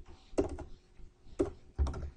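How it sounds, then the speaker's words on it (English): A few quick keystrokes typed on a computer keyboard while entering a telnet command, three soft close clicks spaced about a second apart in an otherwise quiet room. "what I would do is I would type in telnet"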